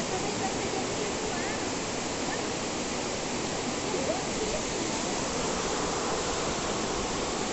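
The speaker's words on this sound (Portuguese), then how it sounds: "Olha a biquinha d'água." A small spout of clean water pours over stones at a waterfall in the hills near Senador José Bento, Minas Gerais, making a close, steady, unbroken rush.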